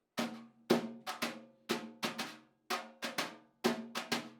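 Brushes strike a drum in a steady rhythmic pattern, each stroke a soft swishy hit with a short decay, played alone and close.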